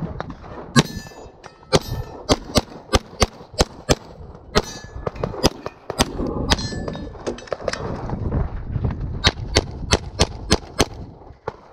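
Gunshots ring out in rapid succession at an outlaw-style shooting match, more than a dozen sharp cracks with metallic target clangs, fired in quick strings with brief pauses and rumbling background noise between them.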